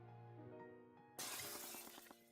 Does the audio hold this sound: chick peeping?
no